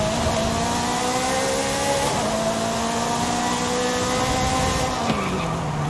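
Koenigsegg CCGT race car in Forza Horizon 5 revs loudly and steadily, engine pitch climbing then dropping at gear shifts, with tire squeal mixed in throughout and no talk.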